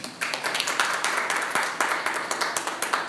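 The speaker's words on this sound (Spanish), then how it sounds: "Denle un aplauso al Señor." A church congregation claps together in quick, steady rhythm, sharp close hand claps repeating evenly for a few seconds with no voices heard.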